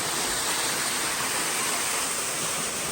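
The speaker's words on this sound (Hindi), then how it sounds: "खूबसूरत तरीन आबशार है ये" A waterfall at Chikar in Azad Kashmir, its flow thinned by winter, roars as a steady, dense rush of falling water that fills the whole clip without pause or talk.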